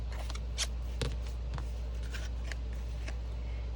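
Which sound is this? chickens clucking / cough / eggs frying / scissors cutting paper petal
scissors cutting paper petal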